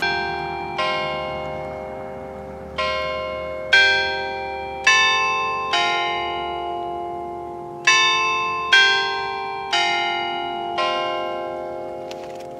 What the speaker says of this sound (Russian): Ох, какие колокола! Вот такая церковь.